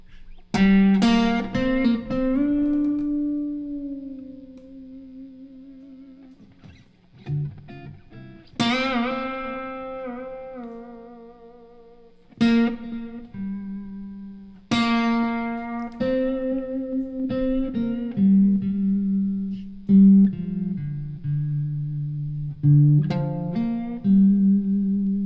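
An overdriven electric guitar plays a slow blues solo of chord tones drawn from the pentatonic scale, with ringing sustained notes, bends and vibrato between bursts of picked phrases.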